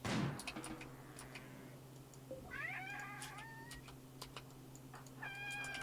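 A cat meows several times in a video game, rising and wavering calls over quiet background hum and faint ticking, with a short gap between the first and second cries.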